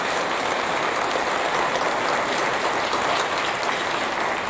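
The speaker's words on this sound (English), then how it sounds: "Let's give them a round of applause." Sustained, dense applause from an audience at a school National Junior Honor Society induction ceremony, steady and loud throughout with no break and no talking.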